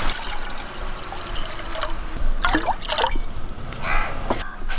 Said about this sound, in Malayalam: വെള്ളം നമുക്ക് ഇതിലേക്ക് ഒഴിച്ചു കൊടുക്കാം